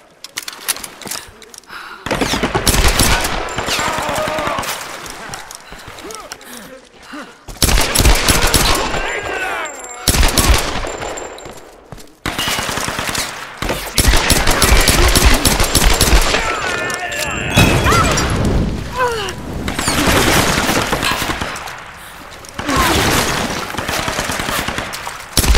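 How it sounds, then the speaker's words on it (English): Dense bursts of gunfire in the 2013 Tomb Raider game, with rattling automatic volleys and single shots coming in loud waves separated by short lulls, with shouted voices mixed in. "She's shooting at us!"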